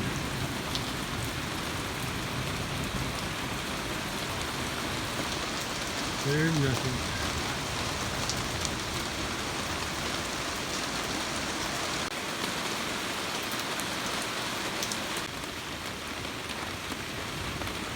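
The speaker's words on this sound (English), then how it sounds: "Well, I'm getting some rain." Steady rain pours down with a dense, even hiss throughout, and a voice speaks briefly partway through.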